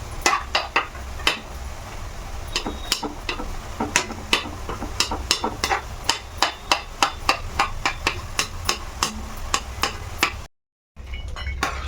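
A spoon stirs masala-coated peanuts in hot oil in a metal pan. It makes a long run of sharp, regular clinks and scrapes against the pan, close and distinct, with a faint background hum and no talking.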